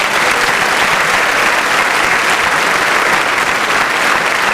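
Loud, steady applause from a graduation audience honoring a group of seniors at Edgren High School's 2015 ceremony, a dense, even wash of clapping sustained without a break.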